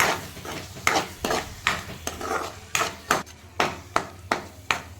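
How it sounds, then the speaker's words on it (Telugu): A spoon scrapes and stirs turmeric, salt and chili masala around a pan in steady rhythmic strokes, each one a sharp close scrape over a faint sizzle. "ఇవన్నీ వేసుకొని బాగా కలుపుకోవాలి"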